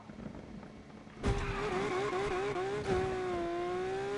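A car engine in Need for Speed Unbound is held at high revs before launch: a sharp rise at about one second into a steady, wavering roar, with a second push near three seconds, loud and close with no talking.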